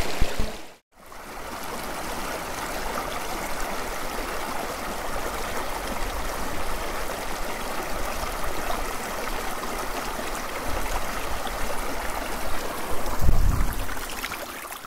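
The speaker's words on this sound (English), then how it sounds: "I have the small stream just trickling in there on the right hand side" A small stream trickling in a midwinter Peak District landscape, a steady close babble of running water throughout with no voices.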